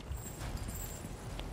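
A cow moves about in Resident Evil 4 Remake, its hooves giving faint, soft, uneven clip-clop steps over a low background rumble.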